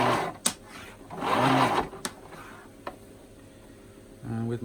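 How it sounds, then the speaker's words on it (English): Power cord of an Electrolux 347 vacuum cleaner being pulled out, a close rattling whir with a few sharp clicks and knocks and a brief mechanical hum near the end. "I'm going to pull out the cord."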